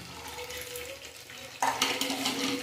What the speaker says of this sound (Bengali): এখন কাজু কিশমিশগুলো দিয়ে দেবো।